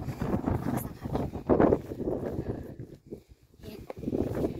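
Strong, gusty wind on a hiking trail stage of the MacLehose Trail, Hong Kong, buffets the microphone in rough, uneven bursts, briefly easing before rising again.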